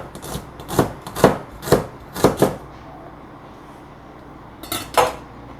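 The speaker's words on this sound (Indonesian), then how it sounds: "Nah, ini tak potong-potong." Knife chopping food into pieces on a board, several sharp close knocks in an uneven run, then a pause and two more strikes; no talking.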